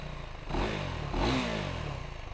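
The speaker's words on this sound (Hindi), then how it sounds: "सो थोड़ा रेव करके दिखाता हूँ आपको कैसा आवाज़ है." A KTM Duke 390 motorcycle engine, now fitted with a 400cc unit, idles close by and then revs up twice in quick surges before settling back to a steady idle.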